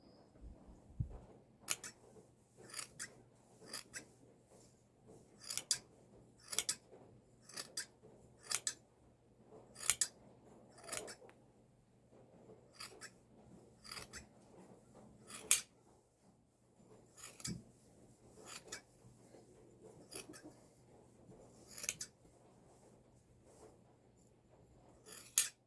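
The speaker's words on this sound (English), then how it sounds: "that is where it's a little tough going with the shears" Hand shears snip wool from an Icelandic sheep ewe in a steady series of close, crisp metallic clips, about twenty cuts at irregular intervals over a quiet background.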